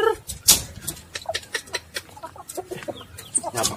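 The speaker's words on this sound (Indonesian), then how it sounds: "Cek ayam dulu dah, kali udah bertelur." Chickens cluck in short, irregular bursts close by, with no talking.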